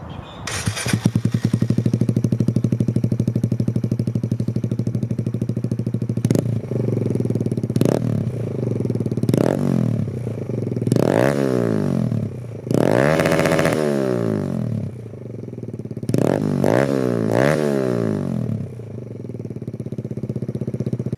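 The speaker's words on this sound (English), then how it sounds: "I'm going to take it outside of the carport and give you a good idea of what it sounds like just open" A Kawasaki Z125 motorcycle fitted with an Empire Industries exhaust and no silencer idles loudly outside a carport, then gets several sharp throttle blips that rev up and drop back, with no voices.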